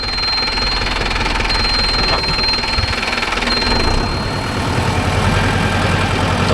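Mahindra Arjun Novo 605 DI tractor engine runs loud and close in a field with a rotavator, a steady throbbing diesel drone throughout with a faint high whine on top.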